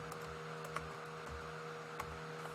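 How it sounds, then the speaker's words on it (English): Text typed on a computer keyboard into a PowerPoint slide, sparse soft key clicks spaced irregularly over a steady low electrical hum, faint and close. "I'm going to go ahead and add some text just by typing."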